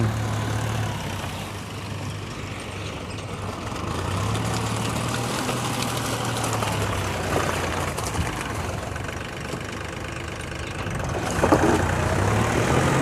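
A tractor engine drones steadily at close range, a low, continuous rumble that holds for the whole stretch.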